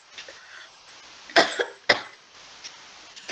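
A few sharp coughs close by in a university lecture, two strong bursts in the middle with fainter ones around them, over a quiet room.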